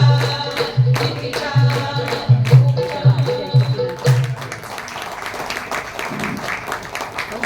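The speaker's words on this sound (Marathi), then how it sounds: "भरले हो मन ऐकून तुमच्या टाळ्यांचा कडकडाट" An audience at an Acharya Atre Katta cultural gathering breaks into applause. The clapping swells from the fading music into a dense, sustained patter that continues to the end.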